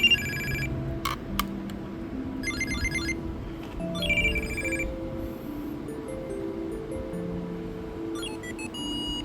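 Monster Hunter ringtone chiming from a handheld game device, a series of bright electronic melody phrases and beeps in bursts over a low continuous hum, with no voices.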